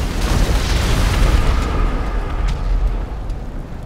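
Car bombs exploding in a GTA race, a loud, continuous rumble of booming blasts that rolls on for several seconds, with sharper pops scattered near the end and no talk.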